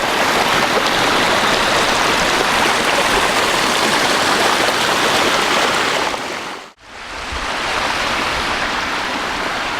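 A water garden waterfall fed by a 10,000 gallon-per-hour pump pours in a loud, steady rushing roar that briefly drops out near the end before resuming, no voices present.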